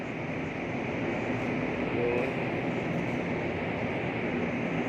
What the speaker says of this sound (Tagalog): Ito yung may tren.